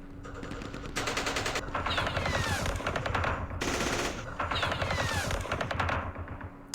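Bursts of rapid machine-gun and rifle fire in the Campaign Series Vietnam war game, loud repeated volleys with brief pauses between clusters, no talk.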